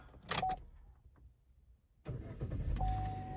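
After a quiet pause, a Chevy Camaro's starter cranks briefly and the engine catches and settles into a steady idle nearby; a short electronic chirp comes beforehand.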